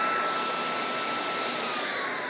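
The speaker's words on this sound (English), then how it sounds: "when I shut it off, you're gonna hear the motor speed up for a moment" A cordless mop vacuum's motor whirs steadily and loudly without pause, a continuous high-pitched drone with no voices over it, the motor speeding up for a moment after switch-off.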